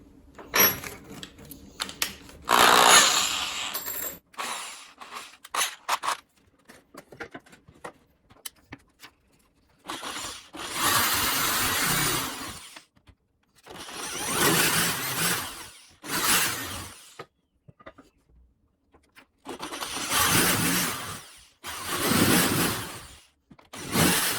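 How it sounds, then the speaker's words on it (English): An electric drill countersinks screw holes in wood in several short bursts separated by pauses, close and fairly loud, with small taps and clicks between the runs. "I'll basically be running backwards with the drill to not chew up the wood"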